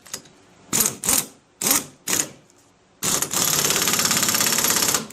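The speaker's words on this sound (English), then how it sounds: "I got an impact wrench." An impact wrench hammers on the puller bolt of a 1973 Johnson 50 HP outboard gearcase, first in four short loud bursts, then in one sustained rattling run.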